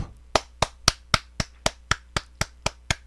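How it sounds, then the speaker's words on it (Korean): About ten sharp, evenly spaced claps ring out close and clear in a quiet room, a steady single-person rhythm at a Buddhist temple morning broadcast. "박수 한번 쳐주시기 바랍니다."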